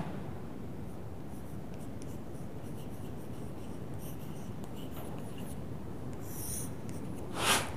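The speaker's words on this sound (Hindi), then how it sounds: "कोई भी एक एग्जाम्पल लिखते हैं" Chalk or pen writing out a math example on a board, a continuous close scratching with short strokes, steady throughout, ending in a sharper tap.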